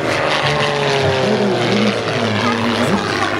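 An Allianz Rebel 300 aerobatic propeller plane, built by the makers of the Zivko Edge 540, roars loudly and continuously at the Singapore Air Show 2012, its engine pitch sliding and wavering as it manoeuvres, with a voice talking over it.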